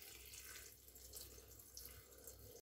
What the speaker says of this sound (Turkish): İçerisine içme suyu dolduruyorum.